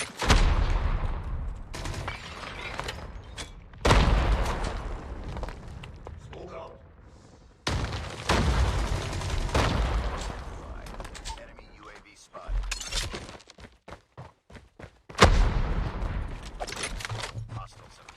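M4 rifle fire in Call of Duty Mobile comes in loud repeated bursts separated by short gaps, with mechanical clicks and rattles between volleys and a voice talking over parts of it.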